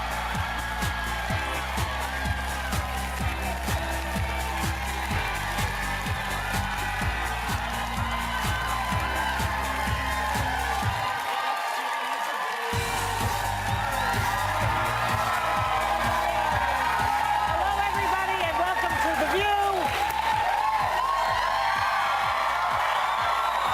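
A studio audience at The View applauds and cheers in a dense, steady roar with whoops and shouts, keeping up over music with a brief drop in the low end midway.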